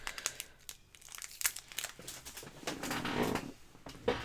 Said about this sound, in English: I have a piece of paper stuck under my chair, if you can hear it rattling around.